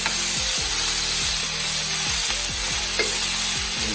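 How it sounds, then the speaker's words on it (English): Onions and peppers fry steadily in a pan for a sweet potato hash, giving a continuous close sizzle with a regular scraping, stirring rhythm throughout. "we're just adding our vegetables, and we'll cook until we get a similar browning on the onions as well as the peppers"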